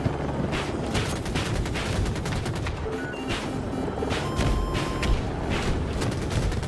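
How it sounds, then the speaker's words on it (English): Battlefield 2042 video game combat heard as dense, steady gunfire from several weapons aimed at players on the ground, with rapid cracking bursts and occasional heavier booms in a continuous loud battle din. "They're shooting us on the ground, dude."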